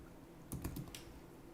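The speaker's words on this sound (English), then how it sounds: "So bloody Bluetooth keyboard." A few quick clicking keystrokes on a Bluetooth computer keyboard, about five taps in a short cluster, quiet and close, with near silence before and after.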